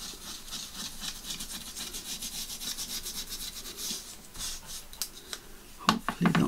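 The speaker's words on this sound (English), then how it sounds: "I'm just going to put that over that sticky tape just to take the stick off it." An embossing pounce pot is rubbed back and forth over sticky tape, giving a rhythmic, soft scratchy swishing up close, followed by a few sharper taps and knocks at the end.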